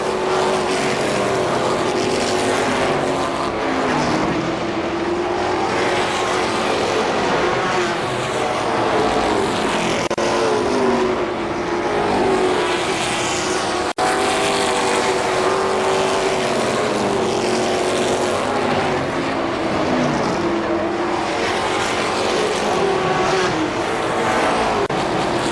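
Race cars roar around the track at KilKare Speedway, with loud engine drone rising and falling continuously as several cars pass close by, and no commentary heard.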